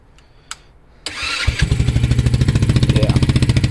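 A Vader 125 motorcycle starts up after a couple of faint clicks, the engine catching with a loud crank and settling into a rapid, steady, pulsing idle right up close.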